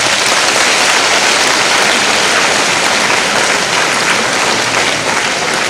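A large crowd claps steadily for several seconds, a dense, loud roar of applause with no speech.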